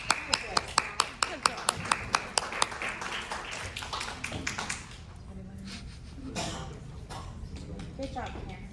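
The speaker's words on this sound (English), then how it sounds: "I'll clap for you. What was the clapping for?" Sharp, evenly spaced hand claps ring out at a school board meeting, about a dozen in a steady rhythm before stopping. Afterwards people talk quietly in the room.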